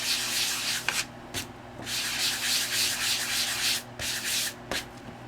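Sandpaper rubbed in circles over washi tape on a craft layout, a steady close scratchy rasp in repeated strokes with brief pauses between passes.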